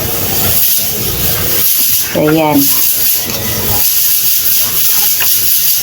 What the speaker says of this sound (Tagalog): naririnig niyo mga guys yung pressure cooker ko